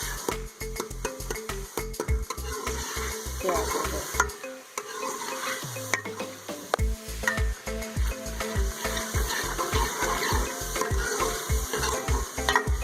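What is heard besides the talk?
tomatoes frying and stirring on medium flame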